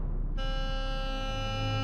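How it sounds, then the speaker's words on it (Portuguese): An aircraft cockpit alarm goes off during a LAPA airliner's takeoff: a steady electronic warning tone with layered harmonics starts abruptly and holds unbroken over a low engine rumble. "tomaram a decisão de continuar com a decolagem logo depois que o alarme tinha disparado"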